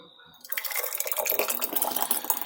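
Homemade tomato sauce pours into a jar with a steady, wet liquid rush that starts after a short quiet moment and keeps going, close and fairly loud, with no talking.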